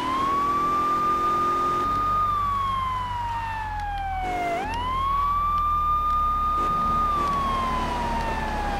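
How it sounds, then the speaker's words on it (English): A police car siren wails in Grand Theft Auto 3, a loud sustained tone that holds, dips and swoops back up in a slow wailing cycle over engine rumble, with no talking. "I have my siren on."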